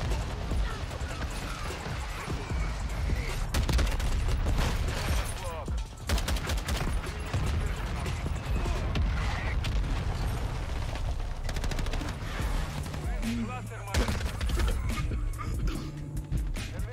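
Dense bursts of automatic gunfire and scattered single shots from the shooter game Modern Warfare II crackle nearly nonstop, loud and close, with mechanical clatter and occasional voices mixed in.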